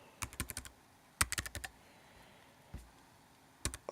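A computer keyboard clicks in short bursts of quick keystrokes while a password is typed, with brief pauses between the clusters. The taps are close and crisp in a quiet room.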